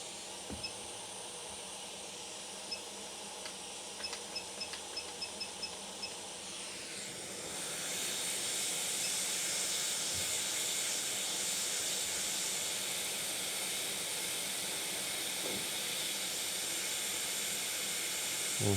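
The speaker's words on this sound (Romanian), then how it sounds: "Și îi dăm cu aer cald la ăsta" Hot air rework station blowing strongly onto an iPad Pro 12.9 A2437 logic board during repair, a steady loud airflow hiss that starts partway through and holds, with faint clicks and small handling sounds before it.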